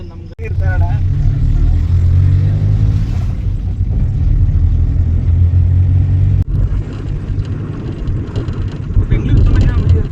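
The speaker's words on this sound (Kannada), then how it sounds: "ಇಷ್ಟೊತ್ತು ಕಾಯೋದಕ್ಕೆ ಇದೇ ಗಾಡಿ ಬಂತು" A vehicle arriving on a rainy-season journey to an unfamiliar village, its low engine rumble holding steady while people talk nearby.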